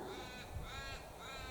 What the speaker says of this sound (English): That's a raven, isn't it?